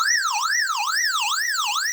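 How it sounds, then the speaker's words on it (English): An electronic emergency siren from an XHDATA D-109WB portable radio wails in a fast, repeating up-and-down sweep, loud and close, about four cycles with no voices. "So this is the emergency siren."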